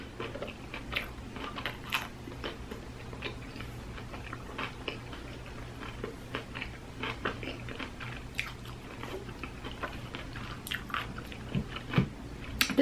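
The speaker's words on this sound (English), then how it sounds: "I have a minute of boring chewing here with this dry ass bread" Someone chews dry fast-food bread close to the microphone, giving steady soft crunches and moist bites in an irregular rhythm, with no talking.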